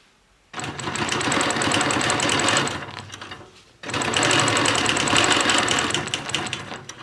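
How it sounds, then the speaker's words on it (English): Sewing machine quilting a straight line guided by an Elvira ruler: two loud, rapid stitching runs of a few seconds each separated by a brief pause, close up with no talking. "then I'm going to quilt one line on this side, 1/4 inch away from this line"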